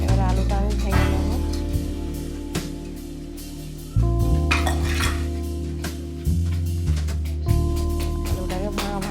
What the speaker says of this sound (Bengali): এবার আলুটা আমি ভেঙে নেব।